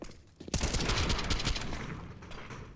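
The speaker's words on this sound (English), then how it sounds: "Taking him out with nades early on." Grenade explosions go off on the Inferno map of Counter-Strike during a professional match. A sudden loud blast erupts after a quiet start, then a dense rumbling roar decays slowly over a couple of seconds.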